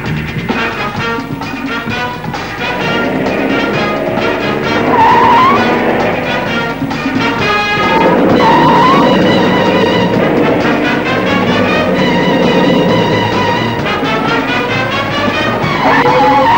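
A getaway car speeds off with skidding, squealing tires during a movie chase, the engine and tire noise loud and continuous under a dramatic musical score.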